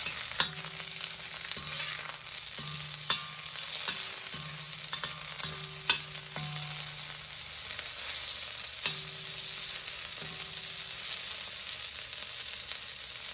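Beef sizzles steadily in a hot pan with occasional scrapes and stirring clicks, the frying hiss continuous and fairly loud with no voices.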